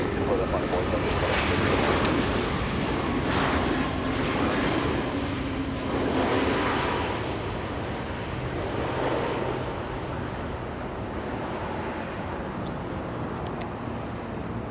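A Boeing 787 Dreamliner at Los Angeles International Airport, a steady, distant jet engine rumble and whine that slowly fades over the clip, with faint wind buffeting the microphone.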